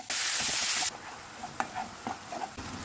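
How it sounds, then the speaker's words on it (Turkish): Minced meat sizzling in a preheated pan over high heat while being stirred, a loud initial hiss that settles into quieter frying with sharp scraping clicks of the spoon. "Önceden ısıttığımız tavaya kıymayı ekleyip yüksek ısıda suyunu bırakıp suyun geri çekinceye kadar karıştırarak"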